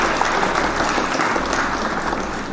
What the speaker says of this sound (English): Can we hit the claps for Miss Donahue?